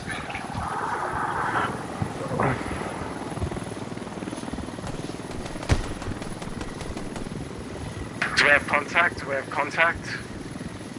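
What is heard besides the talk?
enemy helicopter flying nearby in the video game Squad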